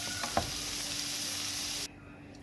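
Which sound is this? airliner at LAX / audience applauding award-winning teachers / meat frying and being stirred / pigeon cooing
meat frying and being stirred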